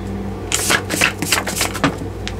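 A stiff deck of cards is shuffled by hand in a quiet room, giving a few quick riffling bursts and crisp snaps over about two seconds, with no speech on top.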